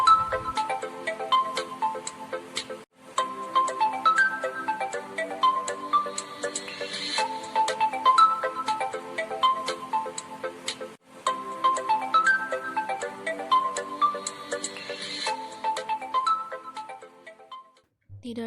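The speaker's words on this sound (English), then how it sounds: "The story begins with a phone call." A melodic phone ringtone signals an incoming call, playing loud and clear in repeating phrases with brief gaps between rings, then stopping near the end.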